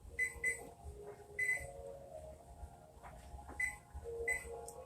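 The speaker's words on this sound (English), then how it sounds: "So I'm going to set that timer." A kitchen timer beeps in short bursts as it is set in a home kitchen, with high, clipped electronic tones repeating irregularly over faint background noise.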